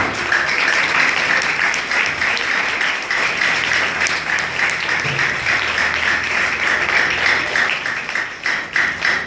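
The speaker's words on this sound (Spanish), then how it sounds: "Denle palmas al Señor por eso." A church congregation clapping for the Lord, dense and loud applause from many hands filling the room, sustained evenly before tapering slightly near the end, with no voices on top.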